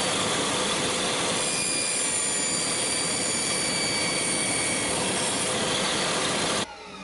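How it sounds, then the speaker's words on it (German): A table saw roars steadily as it rips through a wood strip for a French cleat, a loud, continuous whining cut that stops abruptly near the end. "dann jage ich die mal gerade einmal über die Säge"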